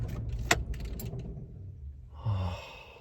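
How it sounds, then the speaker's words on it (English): A car engine switched off, with keys jangling near the start and a low idle rumble that fades before a short clunk and a breathy sigh near the end. "Hang on, let me turn the car off."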